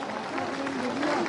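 Audience applause greeting a grand Shobha Yatra procession performance at a temple event, steady dense clapping held at an even level throughout, with faint crowd noise underneath.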